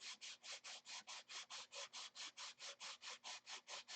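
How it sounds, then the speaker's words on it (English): Rhythmic back-and-forth sanding strokes, about four or five per second, steady and close with a dry rasping texture. "I could just stop sanding this"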